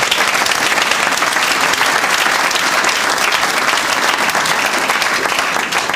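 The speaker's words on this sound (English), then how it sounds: "Round of applause." A large audience at an interview event with Steve Ballmer breaks into loud, dense, sustained applause, filling the whole stretch without talk.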